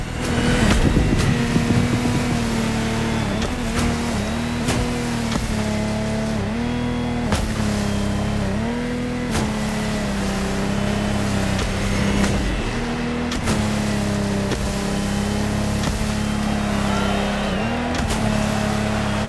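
A Lamborghini Technomar powerboat in The Crew Motorfest roars at racing speed, its engine droning loud and sustained with repeated pitch shifts as it revs and bounces across the water, with no speech.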